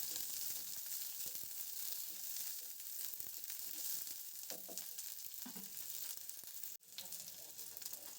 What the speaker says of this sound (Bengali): হালকা ভাজবো।